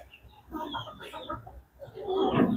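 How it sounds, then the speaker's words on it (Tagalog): Chickens and ducks mingling at a farm drinking water; soft, irregular clucks and fowl calls come close by at low volume, with no clear talk. "Ating pato at saka manok guys, oh."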